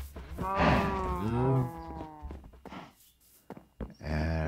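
Cattle mooing in Minecraft near a small wheat and cow farm: several drawn-out, low moos, moderately loud and close, with brief clicks and footstep-like taps between them.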